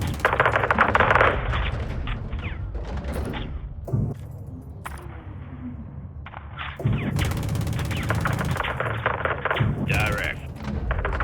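Automatic gunfire in the Modern Warfare 2 Remake video game: loud, dense bursts of rapid shots with heavy thumps, separated by brief lulls, while voices speak over the action.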